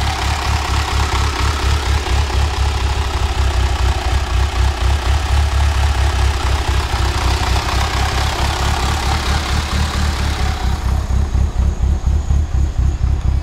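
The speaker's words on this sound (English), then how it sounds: "Got a little bit of lifter kick, but other than that, the engine sounds pretty good." A 2.3-liter car engine idles loudly and close, its rough, rhythmic lope pulsing steadily with a light ticking clatter of lifter tick throughout.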